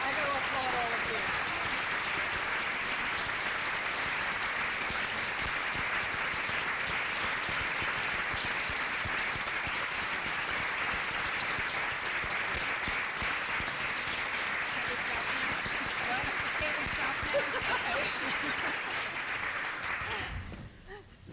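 A symposium audience applauds in dense, steady clapping that holds at an even level for about twenty seconds, then tapers off and stops abruptly at the end.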